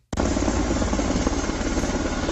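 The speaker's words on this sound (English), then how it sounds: "The helicopters are coming down." Military helicopters coming down to land during a drill in Charlotte, a loud steady rotor roar that starts abruptly and holds throughout, close and alone.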